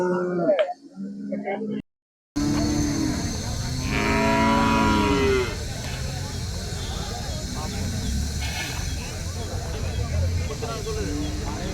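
Heifer mooing at a busy cattle market, a drawn-out low call rising over steady crowd chatter and market noise, with people talking nearby.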